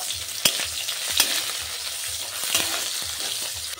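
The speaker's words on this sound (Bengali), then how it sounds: "পেঁয়াজ কুচিটাও ভালো করে আমি ভেজে নেব" Chopped onions fry in hot oil in a pan already seasoned with fried dried red chillies, giving a steady close sizzle with a few sharp stirring scrapes and no voices.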